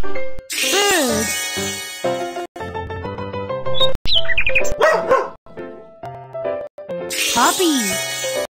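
Cartoonish puppy yaps and barks pop up amid bouncy, electronic game music in the BabyBus School Bus children's game, with sweeping tones at the start and end.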